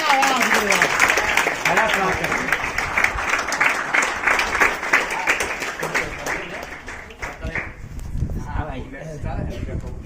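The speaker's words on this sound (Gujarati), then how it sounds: "જોરદાર તાળી." A seated audience at a charity event donating grain kits to children bursts into loud, sustained applause, dense clapping close by that fades slightly toward the end.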